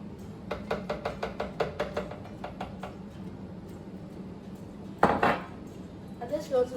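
Dishes and utensils clatter as they are set into a kitchen sink during cooking, a quick series of light clinks followed by a louder clunk and rattle, with faint kitchen handling around it.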